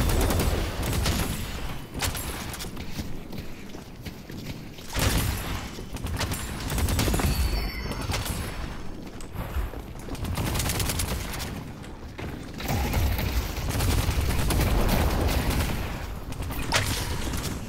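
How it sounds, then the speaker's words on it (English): Rapid bursts of gunfire in the Deadlock video game as a player repeatedly shoots the Grey Talon hero, loud and dense, with booming shots and ricochets in continuous volleys and no talk. "I'm just shooting the Grey Talon repeatedly while they're trying to see us."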